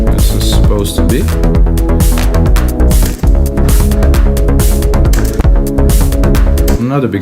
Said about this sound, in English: I'm not a big fan of this clap